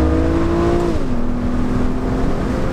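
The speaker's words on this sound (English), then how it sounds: "let's see sort of what it feels like if we put it into manual mode there, into second gear, do an acceleration" A 2009 BMW Z4 30i with a manual-mode six-speed accelerates hard in second gear, its engine note steady and loud, then dipping briefly as revs shift before holding a strong drone, heard from inside the car with no talk.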